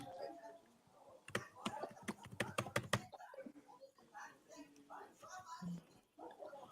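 Computer keyboard typing comes as a rapid burst of sharp clicks, then voices talk over softer scattered keystrokes.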